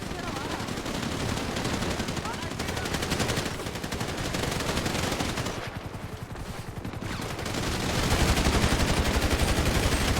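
Rapid bursts of automatic gunfire from a first-person shooter match, sustained and dense for the length of the clip, with a brief lull partway through and players' voices talking over the shooting.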